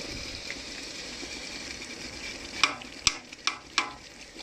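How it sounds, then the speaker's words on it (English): Onions and smoked fish in a pot for Nigerian banga soup over low heat, a soft background sizzle followed by four sharp spoon-against-pot stirring knocks. "So just stir them and leave them on a low heat again to continue cooking for some time."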